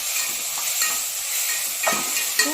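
Chopped tomatoes go into brinjal sautéing in a pan, with soft sizzling under a few scraping stirs of a spoon, one louder scrape near the end.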